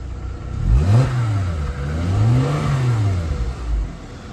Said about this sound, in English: The 268 horsepower V6 is honestly really cool sounding.